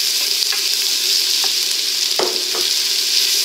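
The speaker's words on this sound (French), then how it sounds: "ça grésille bien" Onions sizzle and fry in hot oil in a pot for a vegetable soup, a steady loud crackling hiss throughout with a few brief stirring clinks and scrapes, no voices.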